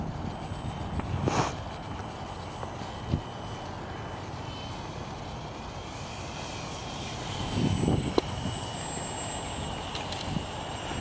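A Cub airplane engine in the Dawn Patrol video game drones steadily and fairly faint, with a few louder swells and brief knocks breaking the continuous hum.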